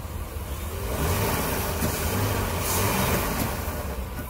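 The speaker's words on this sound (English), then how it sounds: "now, I look at it, you can hear the motor sound good" A used car with 120,000 miles runs with a steady, rough engine drone, close and fairly loud, rising slightly in the middle with no talking over it.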